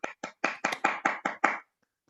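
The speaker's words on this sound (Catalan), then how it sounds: "No sé si se sent, però jo estic aplaudint." A single person claps hands eight times in an uneven rhythm at the close of a talk, the sharp, fairly close claps ringing briefly before the room falls quiet.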